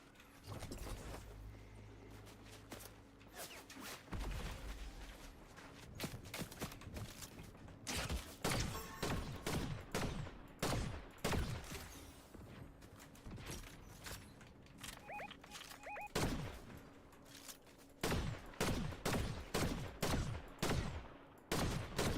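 Sharp gunshots from shooting in Fortnite, scattered single cracks and quick bursts growing denser toward the end, each loud and close, with no talking over them.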